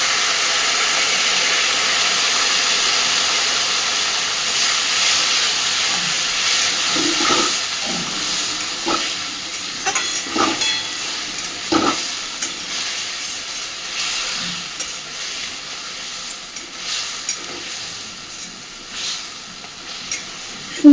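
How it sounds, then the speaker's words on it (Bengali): Spice masala for a rohu fish kalia sautés in a pan with a splash of water, giving a loud, steady sizzle and hiss. Later it gives way to intermittent scrapes and knocks from stirring. "খুব সামান্য একটু জল দিয়ে মশলাটাকে কষাতে থাকবে"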